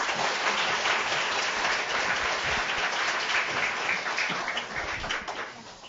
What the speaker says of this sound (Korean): 힘찬 박수로 교수님 맞이하겠습니다